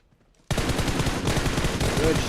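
Video game gunfire in a tournament match, a sudden loud stream of rapid automatic shots that starts abruptly after brief quiet and carries on steadily.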